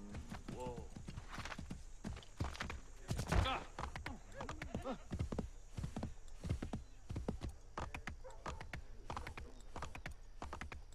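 Horse hooves clip-clop in an Assassin's Creed video game, a quick, irregular run of sharp knocks, along with a brief whinny, continuing throughout at close range over faint game ambience.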